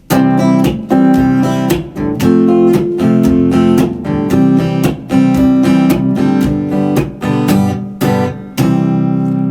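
Strummed guitar chords ring out loud and close, moving through a full progression with a steady strumming rhythm.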